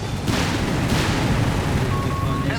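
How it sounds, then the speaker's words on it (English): Artillery barrage rumbling through a Company of Heroes 3 battle, a dense, continuous low roar of booms and blasts with a sharper burst near the start, sustained and loud throughout. "Got a barrage here."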